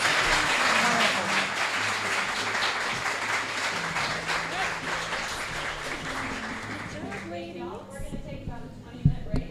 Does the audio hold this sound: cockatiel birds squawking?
no